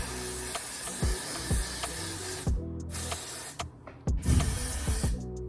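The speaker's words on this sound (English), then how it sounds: "now I'm gonna spray the hairline, like spray here of the hair" Short hissing bursts from an aerosol hairspray can sprayed along the hairline of a synthetic wig, several quick pumps in an uneven rhythm, close and fairly loud.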